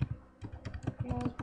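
Quick computer keyboard typing, a burst of close, irregular key clicks and taps that comes and goes over a second and a half, with no talking.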